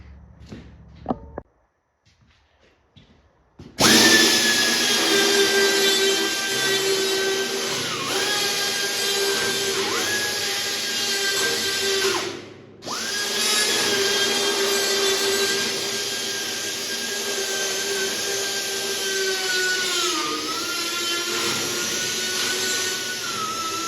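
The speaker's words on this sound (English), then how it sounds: "Okay, I'm gonna cut this rectangle out, and then we'll see if this plate fits in there." A power tool cutting a rectangle out of a 60 gallon air compressor tank, a loud high-pitched whine running steadily after a quiet start, briefly stopping and restarting, with pitch dips as the cut bites.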